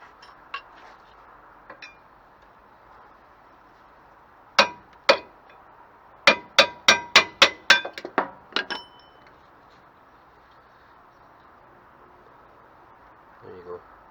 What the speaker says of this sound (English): I'm just going to get a hammer and drift, put it on here and just get a couple of taps